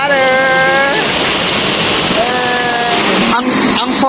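Waterfall at Mimbalot Falls in Iligan City, a steady broadband rush of falling water that fills the whole clip, with voices and brief tonal sounds carried over the roar.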